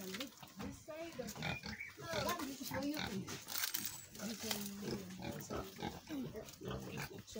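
A pregnant sow, due to give birth for the first time, grunts repeatedly on a piggery farm, with rustling and crinkling nearby while people talk over the animal sounds throughout.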